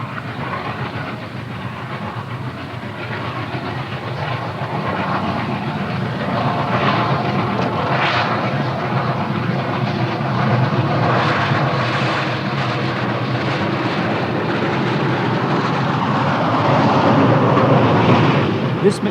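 Union Pacific Challenger 3985 steam locomotive labouring up the 1-in-80 grade of Sherman Hill near Laramie, a steady heavy rumble and roar of engine and train that holds loud throughout and swells slightly toward the end.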